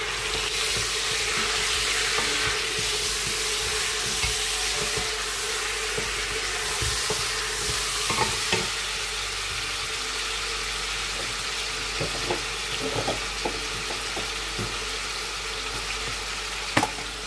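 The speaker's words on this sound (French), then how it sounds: "Et on va remuer." Beef frying in a pot for Cameroonian kondrès sizzles steadily and loudly while being stirred, with scattered spoon scrapes and clinks and no one speaking.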